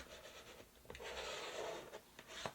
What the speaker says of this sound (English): trusty knife, and we're gonna cut along this side here